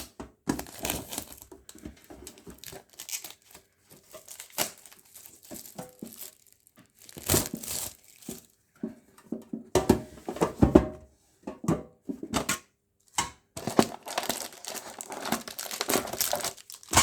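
Plastic and foil packaging on a 2022 Yu-Gi-Oh tin box crinkles and tears in bursts, with loud crumpling rustles broken by short pauses, close up and with no voices.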